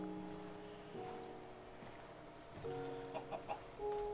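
Minecraft chickens clucking in short bursts, a few quick clucks near the end over a steady game background with water and boat sounds.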